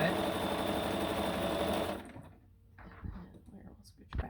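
A sewing machine runs steadily while a quilt block is stitched, a loud continuous whirr for about two seconds that stops abruptly, followed by quieter handling noises and light knocks.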